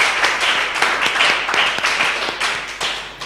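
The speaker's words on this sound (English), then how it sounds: "I think you deserve another round of applause for that." An audience at a debating competition claps steadily in a room, a dense spatter of hand claps that keeps an even level for a few seconds, with no voices over it.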